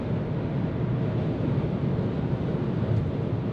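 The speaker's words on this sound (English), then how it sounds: "You can hear some wind noise, but nothing crazy" Steady, broadband wind rush fills the cabin of a 2022 Ford Maverick XLT 2.0T AWD cruising at 70 mph, a constant road-and-wind roar at moderate level with no voices.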